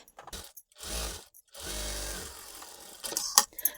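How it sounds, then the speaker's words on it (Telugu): A sewing machine runs a straight seam along a blouse shape belt with lining, in two steady whirring bursts separated by a brief pause, close by, followed by small clicks and handling noises. "కరెక్ట్గా స్ట్రైట్గా ఒక స్టిచ్ అనేది వేసుకుంటూ రావాలి"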